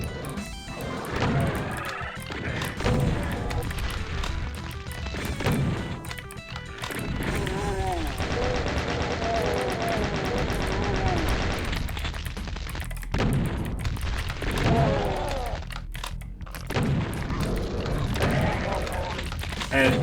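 Rapid gunfire in the video game Doom 2, with shots and booms layered densely over steady game music and effects through the whole stretch, mixed with a voice talking over it.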